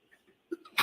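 A single sneeze in a courtroom during a motions hearing, a short burst after a few faint breaths, close and fairly quiet.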